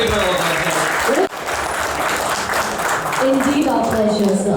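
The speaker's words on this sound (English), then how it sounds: "Give a big round of applause." An audience applauding at a Nippon Paint corporate event in Bengaluru, loud dense clapping with voices mixed in, dipping briefly before swelling again.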